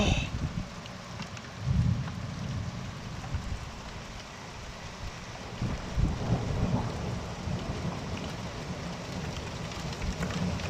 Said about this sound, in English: No, that's just heavy rain. That's big drops. No, that's hail.